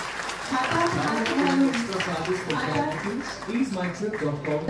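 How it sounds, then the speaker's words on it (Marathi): An audience at a 50th anniversary celebration claps in a sustained round of applause, with a voice talking over it throughout. "जोरदार टाळ्या वाजवेल मंडळी"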